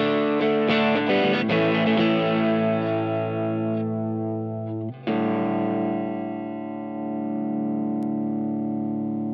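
Electric guitar run through a Horizon drive pedal on a Kemper profile: a burst of overdriven strummed chords, then a long sustained distorted chord ringing out and slowly decaying, with a brief restrike midway, heard alone.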